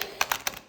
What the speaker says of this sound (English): So trying to riffle shuffle,